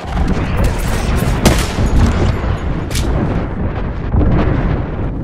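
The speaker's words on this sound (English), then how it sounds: "Oh no, there is an airstrike on our position." Airstrike explosions in Apex Legends pound down in a loud, rapid barrage, several heavy blasts landing close together over continuous rumbling battle noise.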